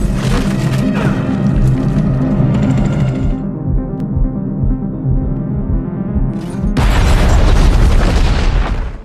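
A loud, heavy explosion booms, followed by a dull lull and then another roaring, rumbling burst near the end.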